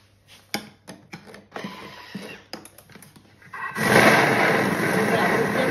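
A Thermomix food processor grinding ice cubes for an ice-cream log starts after scattered clicks and knocks, then roars loud and steady at top speed, a dense whirring grind that continues to the end.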